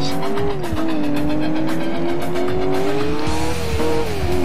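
Car in the racing video game Alarm für Cobra 11 Burning Wheels sliding out under steering, with a sustained wavering tire squeal over a loud engine roar throughout.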